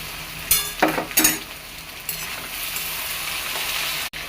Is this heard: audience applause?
no